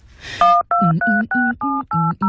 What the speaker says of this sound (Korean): 잠깐 있어봐. 전화 좀 걸고.